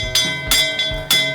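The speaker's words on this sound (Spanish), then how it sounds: "Suena la campana" A bell rings in three evenly spaced strokes, each bright strike leaving a sustained metallic ring before the next.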